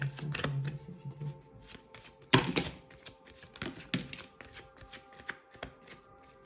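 Tarot cards being shuffled by hand, a series of close riffling and flicking bursts with soft taps between them, fairly quiet and irregular, without speech.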